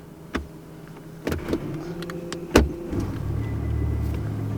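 A BMW i8 switching into sport mode, with a few sharp clicks and mechanical thunks followed by a low electric hum and motor whir that swells steadily, heard close up inside the car with no talking.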